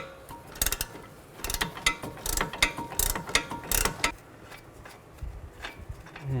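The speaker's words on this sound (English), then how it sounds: "Take an 18mm wrench and you can loosen up the nut." Ratcheting clicks of an 18mm wrench loosening the nut on the front sway bar link stud of a 2007-2016 GMC Acadia, coming in quick irregular bursts of metallic ticks, close and fairly loud with no talking.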